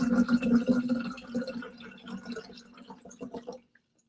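Water is poured into a jug to its fill line for homemade plant milk, a close, gurgling stream with a rising tone that wavers and then stops abruptly near the end.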